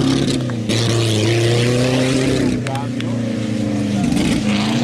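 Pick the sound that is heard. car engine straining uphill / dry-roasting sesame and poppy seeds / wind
car engine straining uphill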